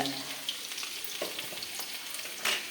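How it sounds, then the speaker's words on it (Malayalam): Mustard seeds fry in hot oil for a curry, giving a steady, close crackling sizzle with scattered sharp pops and a faint stirring scrape. "അപ്പോൾ കടുക് ആദ്യമേ വറുത്തു."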